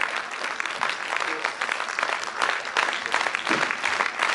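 Audience applause for young dancers who have just performed on stage at a concert, dense steady clapping filling the room for several seconds without a break.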